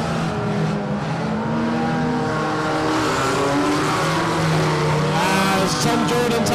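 Unlimited banger racing cars roar around the Mildenhall oval track, engines droning loud and continuous with rising revs and faint tyre scrub, no voices over the pack.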